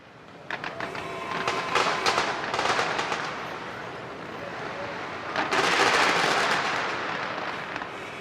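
A rapid string of sharp cracks and pops bursts out, pauses, then erupts again in a dense crackling volley, like ammunition cooking off in a burning Russian military vehicle, a flamethrower system.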